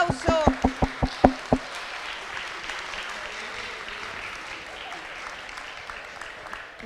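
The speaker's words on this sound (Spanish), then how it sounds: "Un aplauso." Audience applause at a talk on evangelizing children and adolescents, opening with a few loud, sharp knocks or claps close by, then a light, scattered clapping from the room that continues quietly.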